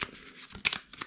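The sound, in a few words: shuffling a deck of event cards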